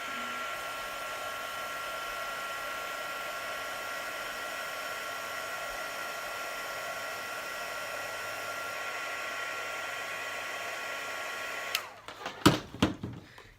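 An embossing heat tool blows a steady, loud whirring hum while heat-setting a card for a black ice technique, then cuts off near the end with a few handling knocks.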